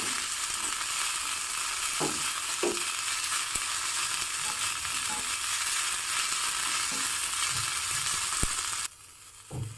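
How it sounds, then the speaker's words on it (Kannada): Dill leaves sautéing in a pan for a Malnad village Brahmin-style summer dish, a steady close sizzle with occasional soft stirring scrapes, running without speech before dropping away at the end. "1 ಬೌಲ್ ಆಗೋಷ್ಟು ಸಬ್ಬಸಿಗೆ ಸೊಪ್ಪನ್ನು ಹಾಕಿಬಿಟ್ಟು ಚೆನ್ನಾಗಿ ಬಾಡಿಸ್ಕೊತಾ ಇದ್ದೀನಿ"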